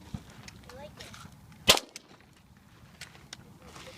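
A single sharp crack from a .22 Ruger Long Rifle, fired outdoors, stands out once mid-clip over quiet background murmur and faint voices nearby.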